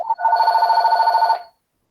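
Telephone ringing during a school board meeting: a single loud electronic ring tone with a fast trill, lasting just over a second before stopping abruptly into silence.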